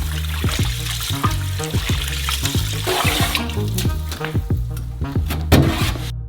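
Sushi rice is rinsed with running water in a kitchen sink, with rhythmic sloshing and swishing, splashes and trickling, and water pouring close by. No one talks.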